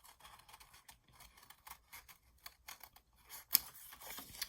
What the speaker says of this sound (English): I also want to do some corner cutting here.